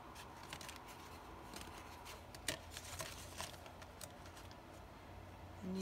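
Scissors snip through paper to cut out a printed image of a lady for an art journal page, giving a quiet string of short, crisp cuts and rustles close by with no talking.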